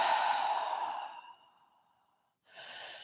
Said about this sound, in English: And then exhale down.